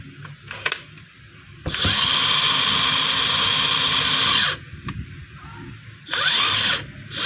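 A DeWalt DCF900 20V cordless impact wrench, newly fitted with a replacement switch, runs freely in two bursts, a long steady high whine of about three seconds, then a shorter one, with quiet handling sounds between.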